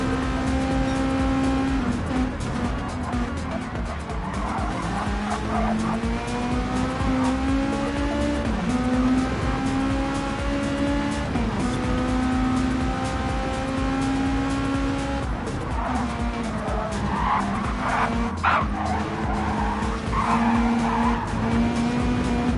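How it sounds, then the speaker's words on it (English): Race cars in Gran Turismo 7 at Interlagos, pushed hard through the Senna S, their engines droning steadily and loudly throughout with repeated tire squeal and skidding as they corner. "These drivers are really, really pushing the limits of the car here."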